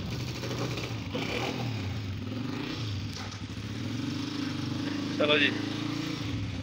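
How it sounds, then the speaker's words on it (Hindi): Motorcycle engine idling with a steady low putter and rumble on a city street, continuous throughout while someone speaks over it, with a brief sharp clatter near the end. "बाइक स्टार्ट कर रहे हैं।"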